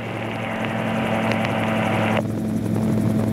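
Gyroplane in flight with the throttle pulled back, a steady close engine and rotor drone holding throughout at a fairly loud, even level with a slight drop in the upper hum partway through.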